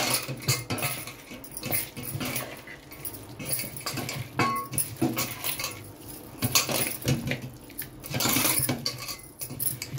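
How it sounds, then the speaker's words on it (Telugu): Mutton pieces being mixed with two spoons of garam masala in a metal pot for a spicy curry, with continuous close scraping and clanking of a spoon against the pot, alone without talk. "ఇంకా దాన్ని అన్ని ముక్కలకు బాగా పట్టేలాగా ఒకసారి కలిపేసుకుందాం"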